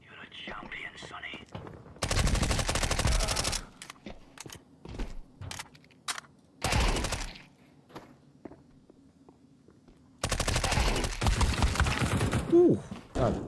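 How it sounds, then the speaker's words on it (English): Bursts of rapid electronic gunfire in Counter-Strike 2 erupt in several loud stretches, separated by quieter gaps with faint whispering and footsteps. "I hear the gunshots."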